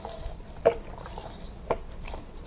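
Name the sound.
fish sauce being poured into pickled lime jar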